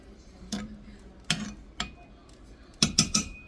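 A spoon stirring spaghetti in a pot for cowboy spaghetti, giving five or six separate metallic clinks and scrapes against the pot, close and clear, the last ones bunched together.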